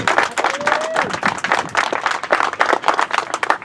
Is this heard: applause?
yes